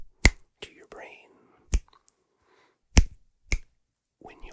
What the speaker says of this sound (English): There's a difference between the softer 4 finger snaps and that sudden, crisp pop to your brain.